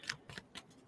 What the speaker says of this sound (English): do a little shuffle again.